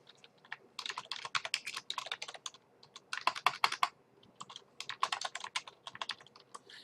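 Keys clatter on a computer keyboard as a name and email are typed into a website sign-up form, close and clear in quick bursts with short pauses between.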